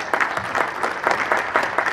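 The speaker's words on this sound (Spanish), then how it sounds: "la arquitecta, Rocío Lombera González, a quien le brindamos un fuerte aplauso." A small group claps in a brief burst of applause, close and lively, with uneven rhythm.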